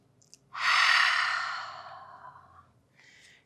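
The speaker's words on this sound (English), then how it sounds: "One more inhale." A long, breathy inhale during a vinyasa yoga flow, rising quickly, holding full, then slowly tapering off over about two seconds, close and alone with a brief faint breath afterward.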